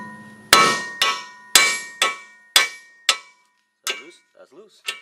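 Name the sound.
hammer striking car tie rod to free it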